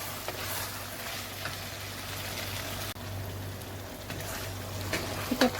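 Onions and green chillies fry in a pan for chicken haleem while being stirred, producing a soft, steady sizzle with a low hum beneath and a few light clicks of a spoon.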